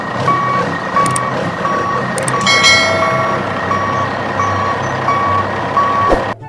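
Steady electronic reversing beeps from a toy truck repeat at an even pace, loud and close, over a constant background hum with a few brief clicks and knocks.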